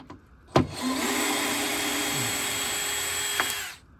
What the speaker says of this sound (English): I'd rather just take the screws out and just sand it all together